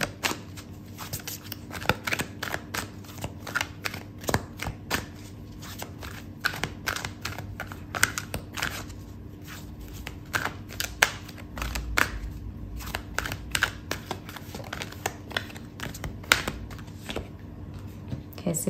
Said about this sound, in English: Okay, so I'm gonna pull out a card for your advice